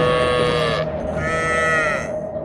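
A cartoon calf lets out a single drawn-out, wavering bleat-like call, close and clear over a low background bed.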